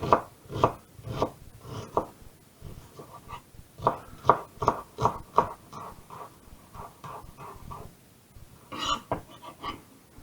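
Rapid knife chops on a cutting board slicing an onion come in quick bursts of sharp taps, pausing briefly between runs.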